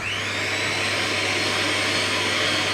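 Electric whisk beating batter containing powdered egg whites for a zerocarb bread, a loud, constant high-pitched motor whine with an underlying low hum, no talking.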